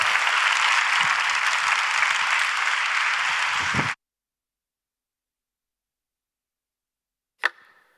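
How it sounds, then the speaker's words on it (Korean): A church congregation at a Korean Sunday service applauding to welcome the pastor, dense clapping for about four seconds that stops abruptly, followed by silence and one brief sharp knock. "자, 우리 목사님 나오실 때 우리 뜨겁게 우리 박수로 환영하고 하나님께 영광 드리도록 하겠습니다"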